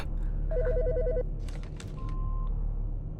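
A telephone rings in the game Autopsy Simulator, with a short warbling electronic ring burst followed by clicks and a brief beep, loud and close with no voices.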